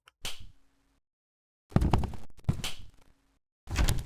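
Baldi slaps his ruler in Baldi's Basics, several sharp smacks at irregular intervals separated by silence, close and crisp with no talk.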